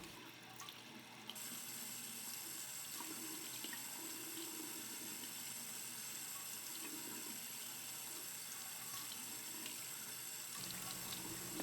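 Tap water runs steadily into a sink as feet are washed during wudu, a continuous close-up splash and hiss with no talking.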